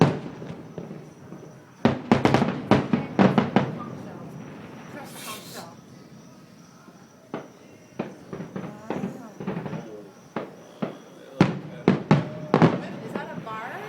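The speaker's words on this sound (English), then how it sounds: "so why don't we just light up some fireworks?" New Year's fireworks bursting over the harbour at Nassau in the Bahamas, a rapid string of sharp, loud firecracker-like bangs and crackles in irregular clusters, with voices chatting in the background.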